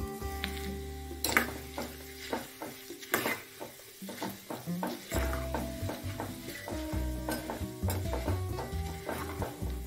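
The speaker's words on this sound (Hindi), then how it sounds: "तेल हमारा गर्म हो चुका है और अब हम इसमें पोहा को डालेंगे" Poha (flattened rice) frying in hot oil in a pan, with loud bubbling sizzle and repeated scraping stir strokes and clanks, busy and close throughout without talk.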